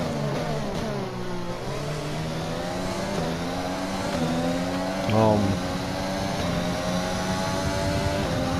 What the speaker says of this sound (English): We're gonna let the car roll, gently hit the throttle out of that corner.